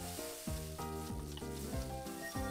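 Sausage sizzles while frying in the Cooking Mama video game, a soft continuous hiss layered under repeating tonal game music with rhythmic sliding notes.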